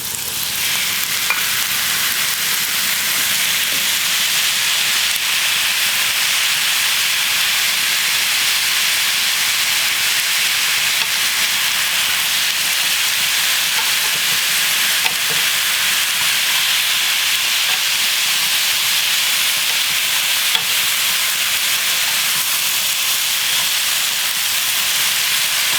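Kimchi and onion stir-frying in a pan give a steady, close sizzle with bright frying hiss. It runs evenly for the whole stretch, with occasional small pops and stirring scrapes and no voices.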